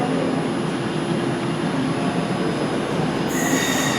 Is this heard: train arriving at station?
yes